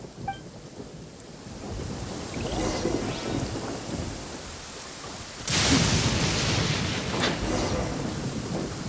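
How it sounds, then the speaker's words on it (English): A video game thunderstorm with a lightning storm: steady rain hisses throughout, then thunder cracks loudly around the midpoint and rumbles on beneath the downpour, with no talking. "Uh-oh! Lightning storm!"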